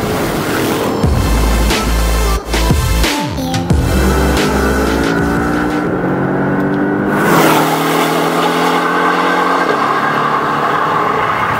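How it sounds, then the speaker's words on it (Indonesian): A Porsche 718 Boxster S flat-four turbo engine revs hard and climbs in pitch, with strong low rumble and rising harmonics, loud and close throughout. "suara dari mesin Flat 4 Turbo baru ini"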